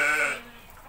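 Young goat kids bleat in a single high, nasal cry that fades quickly, close and fairly loud with no talk over it.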